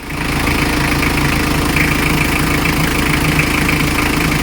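A rebuilt Mitsubishi L300 engine idles steadily and loudly close up, with an even, continuous mechanical hum and no voices over it.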